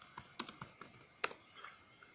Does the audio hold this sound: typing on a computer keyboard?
yes